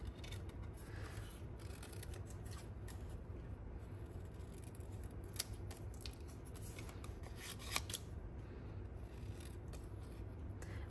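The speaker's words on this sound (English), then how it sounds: "with your paper snips, these are a little bit easier to cut out." Paper snips cut through cardstock in quiet, repeated snipping and rustling strokes, with a couple of sharper clicks along the way and no talking.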